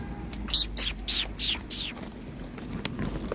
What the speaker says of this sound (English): I hear birds. The birds in a tree.